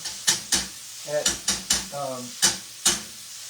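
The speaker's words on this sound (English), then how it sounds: "I like to use this old potato masher because it makes sure everything's broken apart" An old potato masher thumps and scrapes through ground chicken in a hot pan, making repeated sharp, close, loud strikes about every half second over a steady sizzle, with brief voiced sounds between them.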